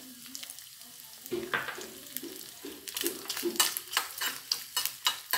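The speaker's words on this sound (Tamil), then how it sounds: "ரெண்டும் நல்லா பொரியட்டும்" Chopped cashews frying in ghee in a pan, a soft sizzle under repeated scraping and stirring strokes from a spoon, growing into a regular rhythmic series of clatters, close but fairly quiet.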